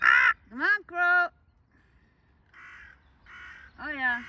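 Crows caw in the early spring morning in Norway, giving several loud, harsh calls in quick bursts with short pauses and a softer call near the end, heard close by.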